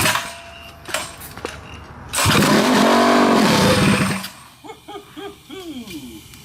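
A flea-market mini bike engine, rebuilt into a drag racer, cranks with a few mechanical clatters and then fires up into a loud, close, roaring rev for about two seconds before dropping back, followed by choppy idling bursts.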